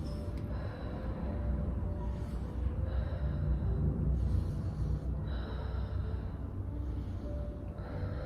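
Slow, deep breaths during face yoga exercises, inhales and exhales repeating in a steady rhythm, close and moderately loud over a low background hum.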